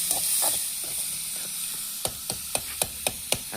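Ripe tomatoes sautéing in a pan for a mutton suthu koluppu curry, a steady close sizzle with a run of sharp spoon-on-pan stirring taps in the second half.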